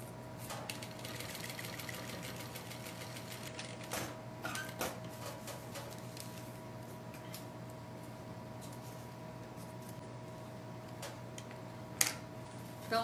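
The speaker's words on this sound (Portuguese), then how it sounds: "Agora eu vou costurar em cima daquela linha que eu fiz." A sewing machine stitches a seam on a fabric pouch with a steady, fine ticking hum that runs throughout at moderate level, broken by a few sharper clicks and a louder knock near the end.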